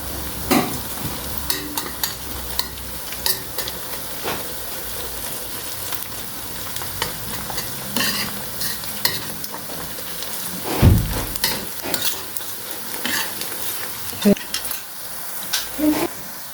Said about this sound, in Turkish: soğan kızardı